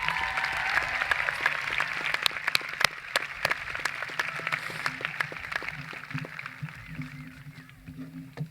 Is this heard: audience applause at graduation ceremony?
yes